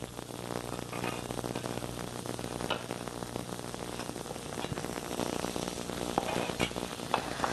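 Okra and tomatoes sizzle steadily in a frying pan, a close, even hiss with scattered crackles that never lets up, and no talking.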